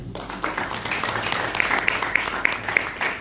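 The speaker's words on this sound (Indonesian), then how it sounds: "Yang mengerti sekali beri tepuk tangan." Applause from a church congregation during an online sermon, a steady wash of many hands clapping at moderate volume with a few sharper claps standing out.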